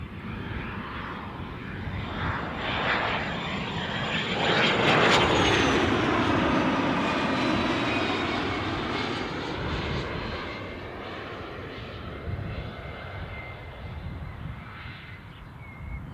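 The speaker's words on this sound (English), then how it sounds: "Cessna citation alert." A Cessna Citation jet at Newcastle airport whines and roars from fairly far off, swelling to a broad peak midway and then slowly fading, with a faint crow calling in the background.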